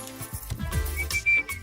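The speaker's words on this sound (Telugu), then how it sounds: "అలా విజిల్ కూడా వేయకూడదు తల్లి" A person whistles in an exam hall during a comedy scene, a short shrill whistled tone rising over low background murmur and thuds, with one sustained high note near the end.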